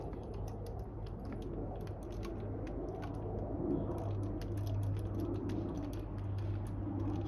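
Small screws being tightened on a Honda Spree NC50 carburetor, faint clicking and light ratcheting scrapes with soft metallic creaks, close and quiet over a steady low hum.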